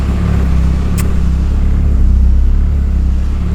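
A budget hatchback's engine idles and revs in a loud, steady low drone close by, holding nearly constant with a slight swell midway and one brief sharp tick near the start.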